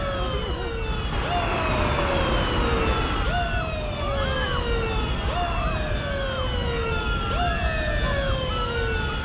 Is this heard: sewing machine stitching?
no